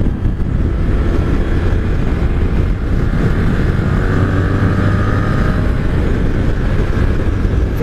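A 1980s Honda shaft-drive motorcycle rides along, its engine drone steady and loud beneath heavy wind rush across the microphone, continuous throughout with no talk.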